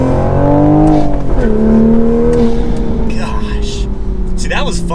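A manual 2023 Toyota GR Supra accelerates hard, its engine note climbing and dropping sharply at each gear shift, loud and close throughout, with a voice talking over the engine.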